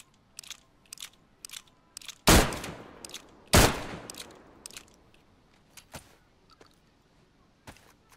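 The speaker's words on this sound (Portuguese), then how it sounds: "Vai atirando." Gunfire in DayZ: sharp single shots crack out at irregular intervals, with two much louder, booming blasts early on and fainter distant pops scattered through the rest.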